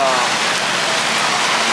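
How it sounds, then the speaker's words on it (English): Heavy monsoon rain pours steadily onto a flooded street in Manila, a dense broadband hiss filling the whole stretch at close range, with a voice faintly present beneath the downpour. "It was just a monsoon rain that was"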